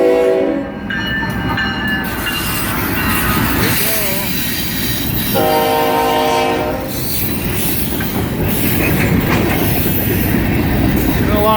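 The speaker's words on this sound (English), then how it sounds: "whoa, hear that whistle coming." A train's whistle blares in several long, loud blasts as it approaches, layered over the rumble and clatter of the moving train.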